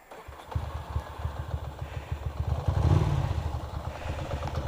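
Ducati Monster motorcycle fitted with twin mufflers runs steadily close by, its deep pulsing exhaust throbbing through a brief rise in revs near the middle with no talking.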